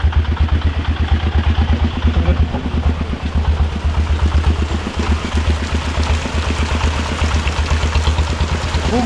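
A van drives along a flooded road after heavy rain, its small engine puttering in a steady, rapid chugging rhythm with rattling clatter, close and loud throughout with no talk.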